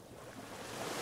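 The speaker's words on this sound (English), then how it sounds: "The waves lavishly washing along the shoreline." Gentle ocean waves wash along a sunny shoreline in a steady, broad surf hiss that swells slightly toward the end, heard alone with a soft windy edge.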